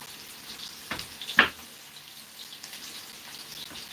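Onions frying in oil in a pot give off a faint, steady sizzle with a few slightly louder crackles and pops near the start, then settle into a soft, even hiss.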